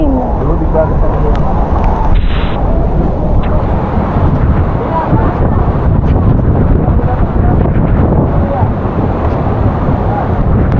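Strong wind blows by the sea, buffeting the microphone with constant loud roaring gusts, and there may be rain and spray mixed in. People talk over it now and then.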